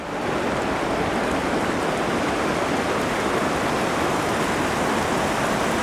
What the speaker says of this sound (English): Just cascading water everywhere you look.